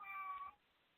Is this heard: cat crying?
yes